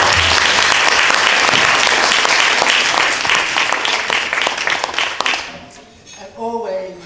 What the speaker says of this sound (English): I just give those children another round of applause